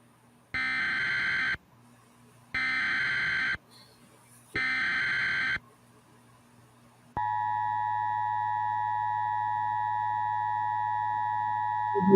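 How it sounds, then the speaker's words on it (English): Emergency Alert System attention signal: three identical harsh two-tone electronic bursts about a second each with short gaps, then a long steady sustained tone, loud and clean with no talking. "This is the EAS alert."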